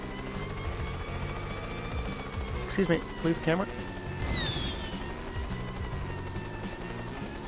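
A helicopter in the game Yooka-Laylee keeps up a steady whirring drone under a burst of bright musical chimes, while a voice speaks briefly over it.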